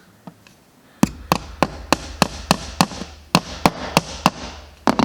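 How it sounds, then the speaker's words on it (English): Light hammer taps pin a piece into MDF board for a model railway diorama: a few soft taps, then about a dozen sharper, evenly spaced strikes, close and clear with no talk. "when it hits that MDF, give it a couple of light taps and you'll feel it go through"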